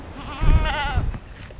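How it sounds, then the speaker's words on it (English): A single Spanish goat in a farm pasture gives one loud, close, wavering bleat lasting about a second. "These are our Spanish goats"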